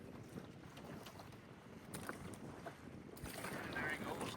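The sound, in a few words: wind on a lake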